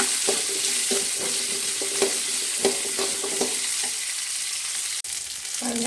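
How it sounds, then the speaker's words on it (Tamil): Onions frying and being stirred in a pan for Tamil-style mutton kulambu, a steady sizzle with a spoon scraping and clinking in a loose irregular rhythm, close and alone. "பாருங்கள், வெங்காயம் நல்லா வணங்கிடுச்சு."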